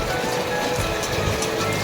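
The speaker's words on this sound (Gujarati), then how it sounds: "હા વરસાદ કેવો ચડેલો હતો" Heavy monsoon rain pours over flooded farm fields in Gujarat, a dense, steady hiss of drops drumming on surfaces with no pauses.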